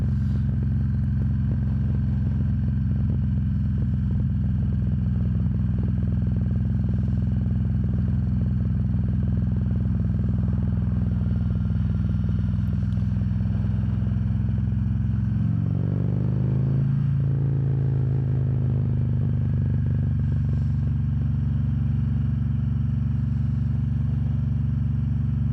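A 2021 Harley-Davidson Ultra Limited motorcycle rumbles steadily while riding on pavement, a constant low engine drone with wind and road noise, briefly shifting in pitch midway as it passes something, with no talking.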